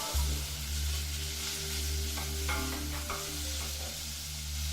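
Thinly sliced onion stirred in a pan with a little low-calorie spray oil for a Japanese pork curry, giving a steady close sizzle with scraping stirs scattered throughout and a constant low hum underneath.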